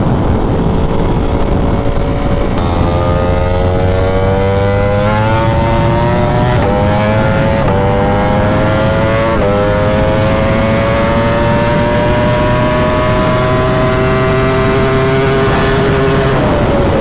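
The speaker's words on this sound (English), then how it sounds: "Throttle just went a little whoop, whoop, and the bike is just gone." A Ducati Panigale V4R sport motorcycle revving hard, loud close engine roar with a rising whine as the throttle opens and the revs sweep up in steady pitch climbs across a long continuous run.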